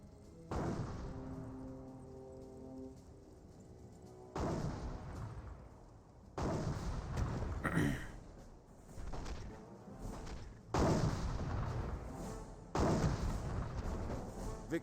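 Heavy artillery in Company of Heroes fires in a run of booming blasts, each one long and rumbling, coming in clusters every few seconds with distant crackle between them.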